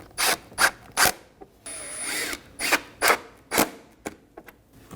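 A power drill drives T30 screws into the front fender liner of a 2014-2023 Ford Transit Connect: a series of short, sharp whirring bursts, close and fairly loud, with a longer run in the middle and quiet gaps between.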